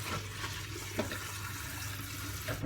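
Water runs steadily from a tap into a kitchen sink while vegetables are rinsed, a continuous close hiss and splash with no talking.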